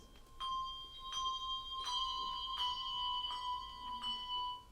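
Two handbells are rung together using the four-in-hand technique, in a series of bright, ringing strikes with sustained overtones. The strikes are spaced about half a second to a second apart, and the tones overlap and decay between strikes.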